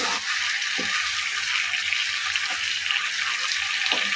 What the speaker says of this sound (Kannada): ಸ್ವಲ್ಪ ಜೀರಿಗೆ ಹಾಕ್ಕೊಂಡಿದ್ದೀನಿ ಇನ್ನು ಸ್ವಲ್ಪ ಆಯಿಲ್ ಹಾಕಿ ಫ್ರೈ ಮಾಡ್ಕೊಳ್ತಾ ಇದ್ದೀನಿ